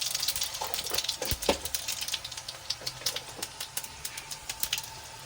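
Panch phoron and radhuni seeds crackle and sizzle in hot oil in a home kitchen for a Bengali spinach chorchori, a steady hiss under sharp irregular pops, close and moderately loud with no talking.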